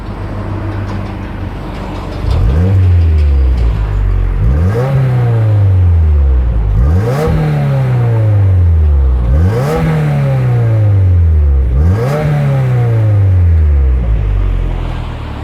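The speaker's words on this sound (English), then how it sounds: "let's take a listen to the exhaust from the exterior and see what you think of the sound" A 2022 Subaru WRX Premium revved repeatedly from outside the car, five rising-and-falling exhaust sweeps in a steady rhythm, loud and close with brief pauses between each rev.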